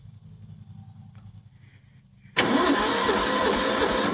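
An old, worn Toro lawnmower engine with a muffler, prone to stalling, cranks and catches: a quiet lead-in gives way to a sudden loud, steady running roar close by.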